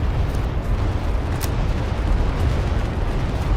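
Bombing run explosions in a first-person shooter game: a dense, continuous roar of blasts and rumbling booms, loud and unbroken throughout, with no talking over it.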